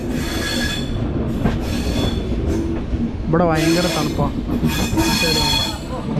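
A train runs on rails with wheels squealing as it changes tracks, a steady rumble throughout and a sharp rising squeal in the middle, while people talk over it.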